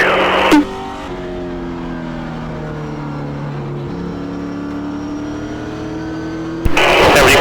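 In-car sound of a race car running wide open, a loud droning engine with gear-change steps in pitch across several seconds, clipped by short bursts of radio-like noise at start and end.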